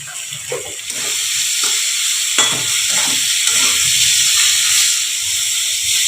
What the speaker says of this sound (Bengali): এবারে বন্ধুরা জলটা দিয়ে দিলাম, একটু পাতলা হবে।